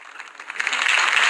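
Crowd applause rising for Harvey Dent's campaign speech in a Batman video game, a dense wash of clapping that swells louder over a second or so.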